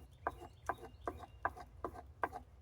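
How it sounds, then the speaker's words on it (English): A steel plane iron is drawn along a leather strop in six evenly spaced rasping strokes, close and soft, each a brief scrape in a quiet workshop. "I'm pulling straight back and lifting up, coming forward, so that I'm not stabbing the leather or cutting it."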